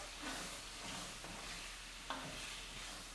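Shrimp cooking in a pan seasoned with pink salt and black pepper, a quiet steady sizzle with occasional stirring scrapes and a brief clink, close by, no talking.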